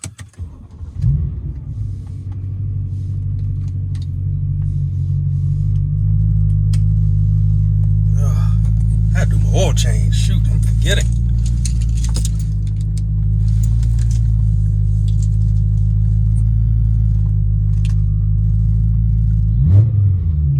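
A BMW M3 track build with Evolve Automotive test pipes idles with a loud, deep, steady exhaust drone, close up, then gets a couple of quick rev blips that flare the rasp; a person talks briefly over the engine.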